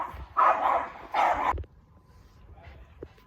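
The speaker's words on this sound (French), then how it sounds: "le bruit des chiens m'a un peu interrompu" Dogs bark outdoors in two loud, close bursts, then fall quiet, leaving faint background sounds.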